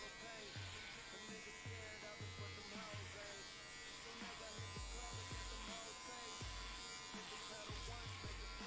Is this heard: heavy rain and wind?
no